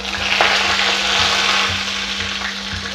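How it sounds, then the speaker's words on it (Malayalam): Curry leaves hit hot oil tempered with popped mustard seeds and dried red chillies for an ash gourd mango dal curry, giving a loud, dense, continuous sizzle up close with faint low thumps and no speech. "അപ്പോൾ നമ്മുടെ ഇനി കറിവേപ്പില ആഡ് ചെയ്യാം."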